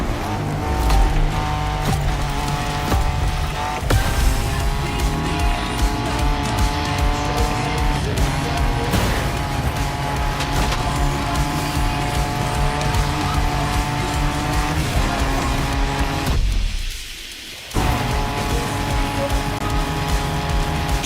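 Car driving off-road in The Crew Motorfest racing game: a loud, sustained engine drone with tire noise and skidding, briefly cutting out near the end before resuming.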